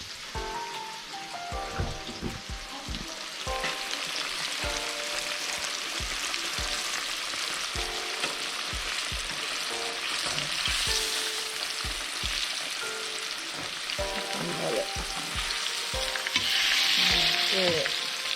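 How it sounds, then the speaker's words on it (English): Pieces of shark meat fry in a hot pan, a steady bright sizzle and crackle that runs throughout with occasional stirring clatters, fairly close and unbroken, with no talking. "Okay, it's frying up real good."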